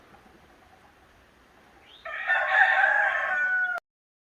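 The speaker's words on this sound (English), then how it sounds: "The roosters are crowing." A rooster crows once, loud and close, a drawn-out call rising over quiet background hum after a couple of seconds of near silence.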